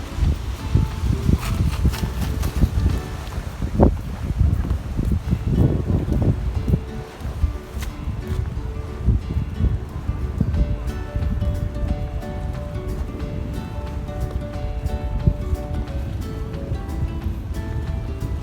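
Strong wind and waves at Hua Hin fishing pier, rumbling and crashing continuously with gusty buffeting against the microphone and some clattering, loud and close throughout.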